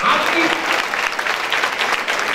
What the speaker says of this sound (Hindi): विश्वास करने वाले जोर से ताली बजाते हैं